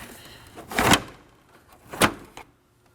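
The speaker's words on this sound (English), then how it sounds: "Now grab onto the cover and slide it out." On a Nissan Armada, the plastic headlight cover gives two sharp, close scraping rasps as it slides out, one just before the first second and one at two seconds, with quiet between.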